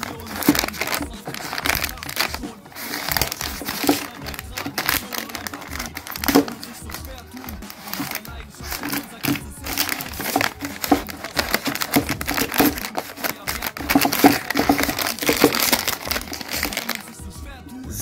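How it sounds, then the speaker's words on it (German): Paper and plastic wrapping of a fireworks advent calendar package crinkles and tears continuously up close, with someone speaking German over much of the rustling. "So, Türchen 21 liegt bereit zum Auspacken."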